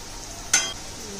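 Masala-coated bitter gourd hitting hot oil, a single brief hiss burst that fades quickly into a low steady sizzle.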